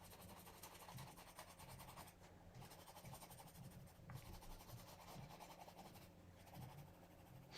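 A pencil scratches steadily across paper while coloring in shading for a stamped scene, a soft continuous rubbing with short back-and-forth strokes and brief pauses, close and quiet with no talking.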